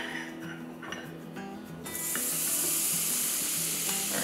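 Portobello mushrooms hit two tablespoons of butter in a hot cast iron skillet, starting with stirring scrapes, then a loud, steady broadband sizzle that fills the rest, close and without talk.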